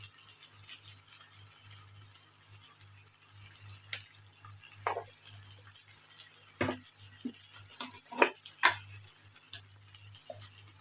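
Potato and meal maker curry with spices being stirred in a pan: soft scrapes and taps of a spoon over a faint steady sizzle, close but quiet, with a few sharper knocks.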